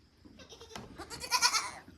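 Domestic goats bleat close by, a quavering cry that rises and grows louder toward the end, with quiet pauses between calls.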